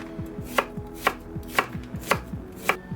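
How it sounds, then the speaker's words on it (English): A knife julienning a peeled endive on a cutting board, with steady, evenly spaced chops, about one every half second, close and crisp with no talk. "I like to start with one little end, and then we're gonna julienne it first."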